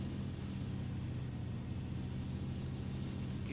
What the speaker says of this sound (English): Engine sounds okay. There was like a slump there.